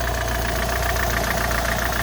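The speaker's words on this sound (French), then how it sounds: "le moteur tourne impeccable, pas de claquement, rien du tout" A Peugeot 407 with the 2.0 HDi diesel engine idles steadily and smoothly, with no knocking. The low, even rumble sits close and constant throughout, and there is no talk.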